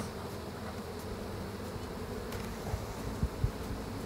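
Honey bees buzz in a steady, close drone around an open hive that had swarmed, with a few louder buzzes as individual bees pass near.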